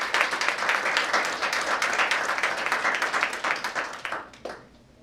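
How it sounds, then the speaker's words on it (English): An audience at a Phi Theta Kappa induction ceremony gives loud, sustained applause for the new inductees; the dense clapping runs about four seconds before thinning into a few last claps and tapering off. "A round of applause to our new colleagues and congratulations."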